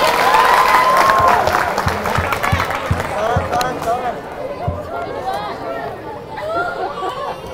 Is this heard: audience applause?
yes